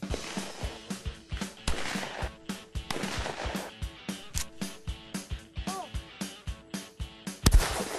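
Shotguns fire at a newly built trap range at a scout camp, a steady series of sharp reports about every half second. A louder, closer blast near the end stands out over outdoor background.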